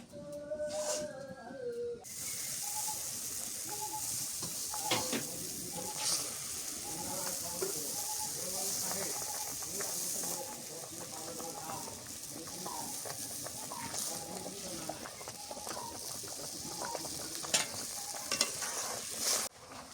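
Tilapia fish frying in oil in a pan for a Sylheti-style home meal, a steady close sizzle with occasional stirring and scraping clatter running throughout, no talk over it.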